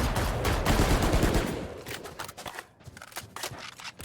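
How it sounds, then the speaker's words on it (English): Gunfire in a Valorant tournament match, shots punching through a wall: a dense burst of loud, rapid cracks up front, then sparser, quieter shots trailing off, with no talk over it. "Ordox picks up a wall bang. Kritzy picks up a wall bang."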